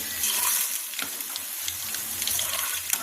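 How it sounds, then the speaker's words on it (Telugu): Hot tempering is poured into cooked spinach dal, giving a short, close hiss and sizzle with faint bubbling and light clinks. "కొంచెం పోపుని తీసుకొని మనం ప్రిపేర్ చేసుకున్నటువంటి కట్టులోకి వేసుకోవాలి"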